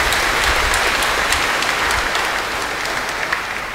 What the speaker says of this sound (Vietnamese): Xin cộng đoàn vỗ một tràng pháo tay để chúc mừng các cha.